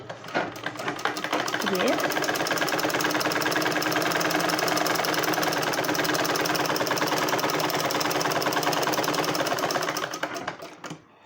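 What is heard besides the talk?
sewing machine stitching a blouse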